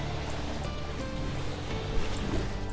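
A hose sprays water in Lightyear Frontier, a steady, close, hissing rush that runs for the whole stretch without a break.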